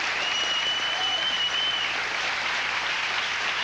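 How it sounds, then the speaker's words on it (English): Sustained studio audience applause for the Saturday Night Live cast on a 1989 talk show, a thick, even roar of clapping that holds steady and loud throughout, with a brief whistle near the start. "We're just getting applause out here for 10 minutes"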